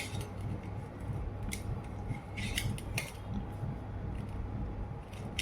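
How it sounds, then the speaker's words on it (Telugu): A knife cuts paneer into small pieces on a board, producing a run of close, crisp taps and scraping clicks at an uneven rhythm over a low background hum, without speech. "సో నేను ఏ విధంగా కట్ చేస్తున్నానో సో మీరు కదా అలాగే పన్నీర్ ముక్కలు అయితే కట్ అయితే చేసుకోండి"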